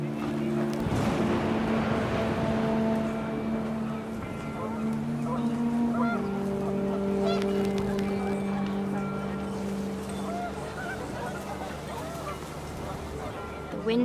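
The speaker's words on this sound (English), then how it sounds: "The wind picked up, and panicked geese appeared and quickly went." Panicked geese honk in the video game What Remains of Edith Finch as wind picks up, several sustained tonal honks layered together at moderate volume, with a narrator speaking over them.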